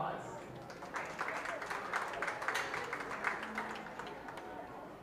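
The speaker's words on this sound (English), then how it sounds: "Let's give her a round of applause." Audience applause at a county fair open beef show ring, steady dense clapping lasting throughout at moderate distance with a broad crowd wash.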